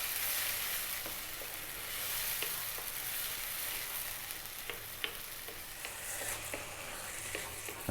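Eggplant and beans fry in a pan over heat turned below medium, giving a steady soft sizzle with occasional stirring clicks and scrapes, close and fairly quiet with no voices.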